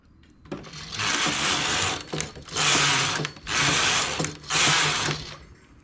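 A knitting machine carriage transfers three stitches at once in three long whirring, ratcheting passes, each a couple of seconds long and split by short pauses, close and clear with no speech.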